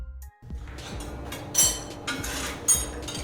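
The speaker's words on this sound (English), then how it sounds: "That's the sound of a pizza being made" Kitchen clatter of pizza being made: light clinks, taps and scraping of utensils and pans, with a soft rhythmic thumping underneath, moderately close.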